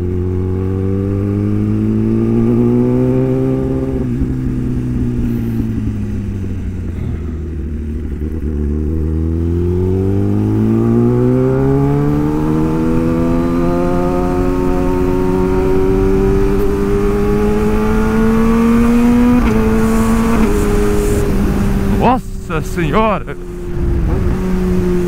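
A Kawasaki Ninja ZX10R motorcycle spinning in place on a Saturday, its engine droning and climbing through long rising and falling revs close by, with brief speech near the end.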